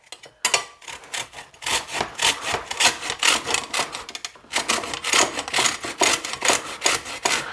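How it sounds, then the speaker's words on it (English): A metal grater rasps against a lemon in quick repeated strokes, zesting it for a white wine lemon sauce; close, dry scraping in steady bursts with a short pause midway, no talk. "I'm going to use the grater here to zest up my lemon"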